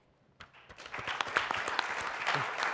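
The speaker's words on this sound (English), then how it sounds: "I clap for myself" Applause breaks out at a startup pitch competition, beginning with a few scattered claps that quickly build into a steady round from the audience and keeps going to the end.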